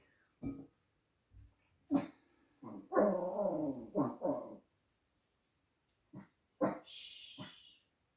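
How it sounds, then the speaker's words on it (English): A dog barks several times in short bursts, with a longer stretch of growly, whining vocalizing in the middle; nearby and fairly loud, no talking. "my dog is also saying hello"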